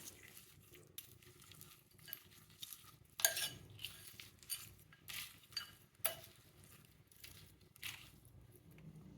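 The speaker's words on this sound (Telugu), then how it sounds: "ఇది ఒకసారి కలుపుకుందాం పోపు మొత్తం." A spoon mixes oil tempering through cooked rice for citron pulihora. Soft, quiet scrapes and small clinks come at irregular intervals, close by.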